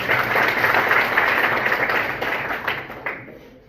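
Students clap together in a classroom at an inter college in Varanasi, a dense, loud burst of many hands that holds steady and then tapers off toward the end.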